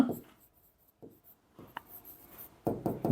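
Chalk or marker strokes on a board during a calculus lesson, a few short scratchy bursts separated by quiet pauses, fairly close and clear with no talking.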